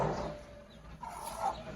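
A few soft, faint clucks from an Aseel hen sitting with five newly hatched chicks, brief calls spaced apart over quiet background.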